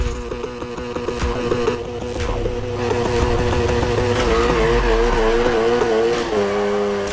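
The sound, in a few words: car accelerating and drifting in Need For Speed Heat video game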